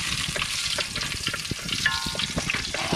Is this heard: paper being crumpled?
no